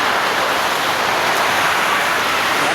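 Floodwater from a typhoon rushes into a house in a dense, loud, unbroken hiss and roar of pouring, churning water, close by and filling the whole scene.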